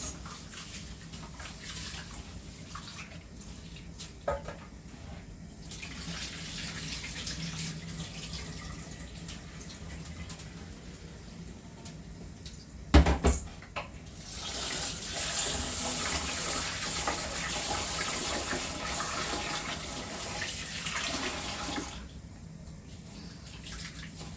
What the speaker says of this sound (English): Warm water to wash my rice.